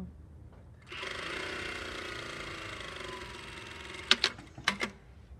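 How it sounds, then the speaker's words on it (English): A sewing machine runs a 1 cm straight seam on fabric, with a steady close motor whir for about three seconds, then a few sharp clicks as it stops. No one speaks. "So just sewing this at 1 centimeter."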